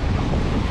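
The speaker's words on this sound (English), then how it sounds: "The waves aren't usually this big in the sound." Steady wind buffets the microphone while waves roll and break close by on a cold beach at Fay Bainbridge Park on Bainbridge Island, Washington, with the surf unusually big for the sound; continuous and fairly loud, with no voices.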